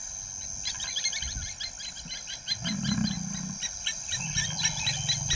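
An African lion on safari grounds lets out low, rumbling roars and growls beneath busy, chirping birdsong in the open bush.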